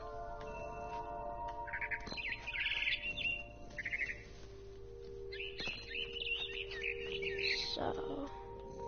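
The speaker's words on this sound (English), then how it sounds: "Then I heard chirping outside my window. It was a barn swallow going back to her nest." A barn swallow chirps in the video game What Remains of Edith Finch, with clusters of bright twittering calls repeating over a steady background score.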